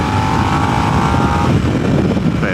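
A 2022 Harley-Davidson Nightster motorcycle rides in third gear at about 50, a loud continuous engine drone mixed with heavy wind rush, close and steady throughout.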